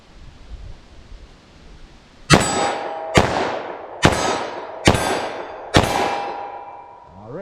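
Five loud .357 Magnum revolver shots with short-barrel defensive loads are fired at an indoor-sounding range target 14 yards away, evenly spaced about a second apart, each sharp crack followed by a ringing decay, after a quiet start.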